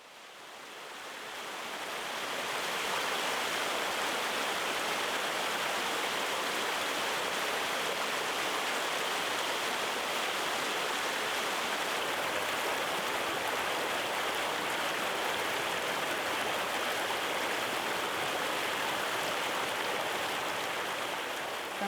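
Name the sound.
flowing stream water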